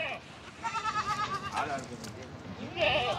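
A goat bleats in several wavering, nasal calls close by, the first a short cry and a longer quavering bleat near the end, with someone speaking between them.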